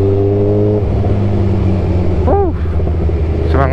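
A group of motorcycles passes on a touring ride near Mandalika, a continuous loud engine rumble and drone close by, with the rising whine of a passing engine partway through and again at the end.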